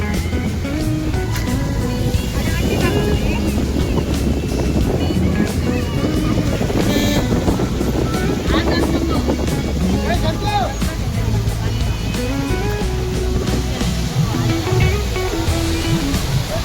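A crowded main waterfall roars continuously and steadily, a dense wash of falling water with voices of many people mixed in.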